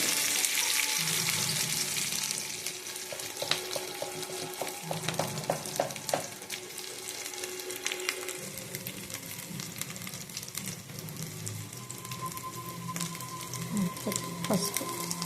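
Curry leaves frying and sizzling in hot oil for an okra curry, a steady close crackle with occasional sharper pops and stirring scrapes running throughout.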